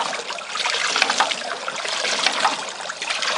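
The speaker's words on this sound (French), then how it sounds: "On voit le petit jet d'eau qui est éjecté." A small jet of water ejected from a repaired hydraulic ram pump hisses and trickles in a steady, close splashing stream with no pauses.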